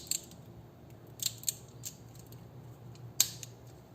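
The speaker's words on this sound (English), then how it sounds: "That noise you hear is this release button here." Sharp plastic clicks from the release button on a Diaclone DA-58 Warudaros Soldier Type toy head unit by Takara Tomy, a few separate snaps spread over quiet room tone, close and fairly crisp.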